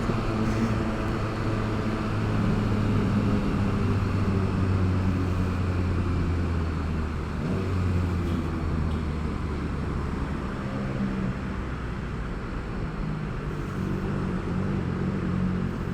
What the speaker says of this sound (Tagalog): tunog ng motor sa tunnel